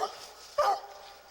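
Walker hunting dogs yelp and whimper in short bursts, fairly close, with one sharper bark-like cry in the middle of a quiet outdoor setting.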